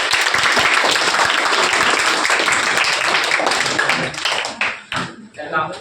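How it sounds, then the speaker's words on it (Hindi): An audience gives loud, dense applause as students are welcomed onto the stage at a school event. The clapping is sustained and close, then thins out near the end as a voice begins to talk. "आपकी जोरदार तालियों के साथ"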